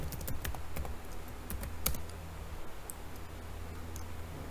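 Computer keyboard typing a query into a medical chatbot: irregular, close, crisp key clicks with short bursts and pauses, heard alone without talk.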